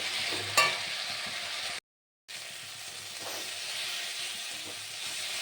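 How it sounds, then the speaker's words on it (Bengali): Mung dal base sizzling in a pan with turmeric and salt, a steady bright frying hiss with faint stirring clinks, close, broken by one short silent gap, no talk. "এর মধ্যে অল্প একটু হলুদ দেব আর একটু নুন দেব, দিয়ে এটা ভালো করে কষে নেব"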